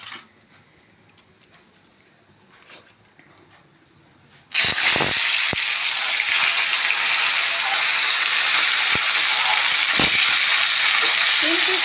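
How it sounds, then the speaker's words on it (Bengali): Fish rubbed with salt and turmeric dropped into hot oil: a quiet start, then a sudden loud burst of hissing sizzle that stays strong and steady with a few sharp spatters. "তেল গরম হয়ে গেছে, এইবার আমার নুন হলুদ মাখানা মাছ তুলে দেবো।"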